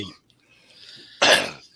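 A smoker gives a single harsh, throaty cough, close and loud, after a brief stretch of quiet breathy sound.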